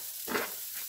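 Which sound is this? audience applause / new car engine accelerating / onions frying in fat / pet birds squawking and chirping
onions frying in fat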